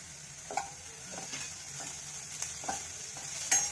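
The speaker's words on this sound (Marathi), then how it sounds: "त्याला लालसर होईपर्यंत परतायचं. तेल नाही जास्त घातलं." Capsicum, green chilli pieces, garlic and ginger paste sauté in a little oil for gobi manchurian, a steady close sizzle broken by several sharp spatula scrapes and stirs.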